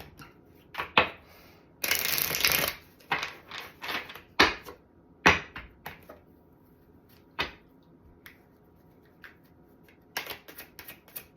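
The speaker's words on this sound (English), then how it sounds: "One more shuffle." A deck of playing cards is shuffled in quick riffles and bursts, with short crisp flutters and taps scattered across a quiet room.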